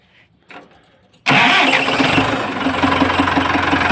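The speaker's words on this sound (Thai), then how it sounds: "เดี๋ยวมาฟังเสียงเครื่องนะครับ" A Ford 6600 tractor engine cranks briefly, then fires and catches, settling into a loud, steady diesel rumble close by.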